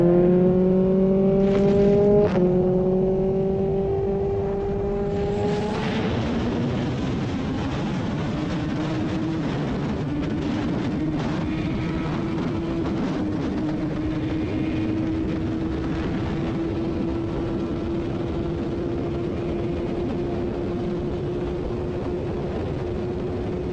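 A Kawasaki ZX14R motorcycle of just over 200 horsepower on a top speed run: the engine revs hard up through a few quick gear changes, then settles into a long, steady high-speed drone with rushing wind noise throughout.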